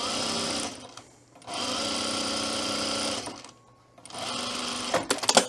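A sewing machine stitching two layers of fabric for a tool belt at a longer stitch length, running in close, loud steady bursts that pause twice briefly before restarting.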